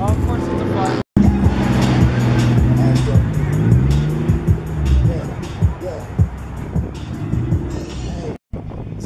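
A Toyota Supra on a Houston street revs hard with its tires squealing, loud and close, with engine pitch sweeping up and down and voices of a crowd chattering around it.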